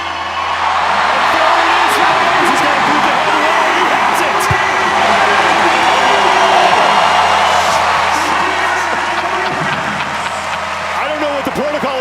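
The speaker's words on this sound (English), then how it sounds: "you hear the Guy chants in the crowd" Arena crowd at the CrossFit Games Sandbag Ladder event chanting an athlete's name, a dense, steady roar of many voices filling the whole stretch with scattered cheers and claps.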